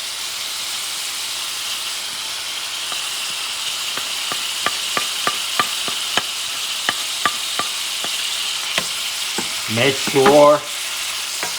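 Shrimp in garlic sauce frying in a pan, a steady close sizzle with evenly spaced light taps, then a louder burst of clatter and spitting near the end, with a brief spoken phrase.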